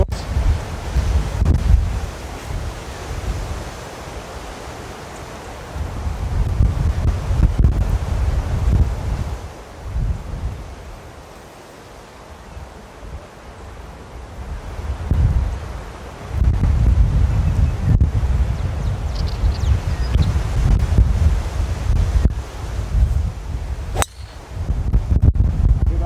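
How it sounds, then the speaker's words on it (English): Strong wind blows across an open golf course, rumbling and buffeting the microphone in long, loud gusts that ease off for a few seconds before building again, with no voices. "the wind's coming a little bit from left to right and into us"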